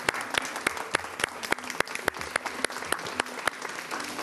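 A studio audience applauds for a guest named Rosa at a television show from Aínsa, Sobrarbe, with lively clapping and sharp, regularly spaced rhythmic claps standing out in the mix.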